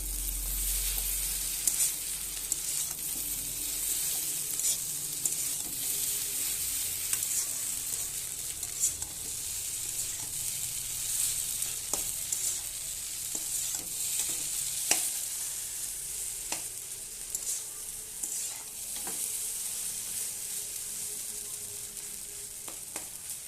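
Chow mein stir-fries with a little butter in a hot pan, a steady close sizzle with the scrape and clatter of stirring throughout and no voices.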